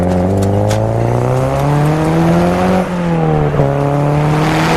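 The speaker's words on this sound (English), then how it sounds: "go up through the gears again." A Subaru Impreza STi S204 accelerates hard up through the gears, its loud engine note climbing steadily in pitch with brief dips at each shift, heard from inside the car.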